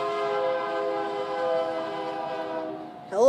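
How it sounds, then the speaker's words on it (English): A passing train sounds a long, steady horn with a rich chord of tones in a Minecraft game on Xbox 360, fairly loud and close, with a sudden rising shift as it ends. "Hello, train."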